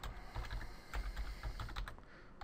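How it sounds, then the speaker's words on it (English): A web address being typed on a computer keyboard, heard as a quick, even run of close, soft key clicks with no voices. "All you need to do here is type http://."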